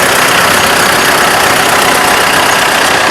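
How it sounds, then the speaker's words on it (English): A Farmall tractor idles in an outdoor parade, its engine giving a steady, continuous rumble that is loud and close, mixed with broad outdoor noise and no break for the whole stretch. "There's the man himself right there on that great Farmall tractor."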